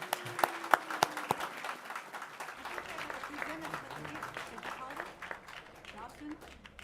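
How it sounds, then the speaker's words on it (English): Applause at a public art campus opening ceremony, with scattered sharp claps early on, then a steady crowd clapping that continues at moderate level and blends with a little background talk. "Please join me in giving them all a round of applause."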